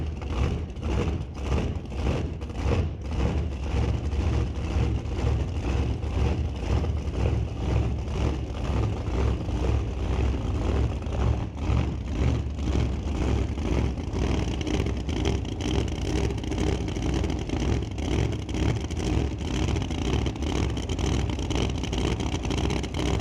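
A 2017 Corvette makes a hard launch down the drag strip at Mission Raceway Park, its loud engine roaring steadily with rising and falling revs for over twenty seconds amid the open-air din of the track.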